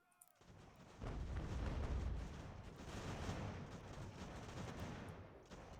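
Cannon and musket volley fire in an American Revolution battle game, a dense rumbling roar of many shots merging together, sustained and booming with no talking.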